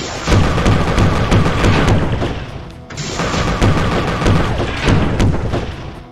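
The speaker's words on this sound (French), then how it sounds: "C'est quoi ces tourelles canon?" Cannon turrets in the video game Cyber Utopia fire as a loud, continuous barrage of booming blasts and crashing impacts that fills the whole stretch, with one short dip in the middle.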